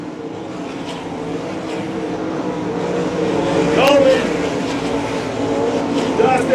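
Sprint cars race on the I-96 Speedway dirt track, their engines roaring steadily and swelling as cars slide around the turns, with a race announcer calling the action over the loud, continuous motor noise.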